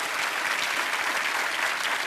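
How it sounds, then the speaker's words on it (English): Loud, dense applause from a game show studio audience cheering a contestant, a steady unbroken wash of many hands clapping throughout. "give the doc a big round of applause"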